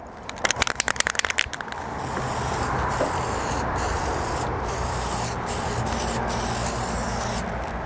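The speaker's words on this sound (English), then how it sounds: "This is the paint I will be spraying on there." Sharp clicks of a rattling aerosol can, then a steady, loud hiss of spray paint onto a John Deere riding mower deck, running continuously with a few brief pauses.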